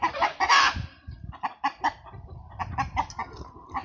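Chickens in a farm pen cluck close by in a quick, uneven series of short calls, with one brief louder squawk near the start and no talking.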